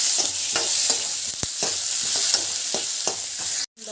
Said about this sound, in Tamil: ஸோ இந்த முந்திரி வந்து ஆட் பண்ணிவிட்டு ஜஸ்ட் அப்படி வந்து ஃப்ரை பண்ணிவிடுங்க